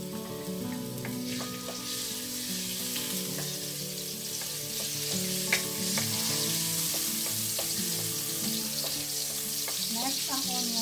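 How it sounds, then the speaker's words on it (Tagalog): Garlic sautéing in cooking oil for sweet Filipino-style spaghetti, a steady close sizzle with scattered sharp pops and occasional stirring scrapes, continuous and fairly loud with no talking. "Lagyan natin ng konting cooking oil. Igigisa natin yung bawang."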